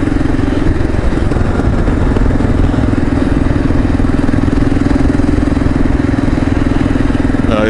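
A motorcycle engine idles loudly and close by with a steady, unbroken rumble and a faint clatter, and only a slight lift in revs near the end.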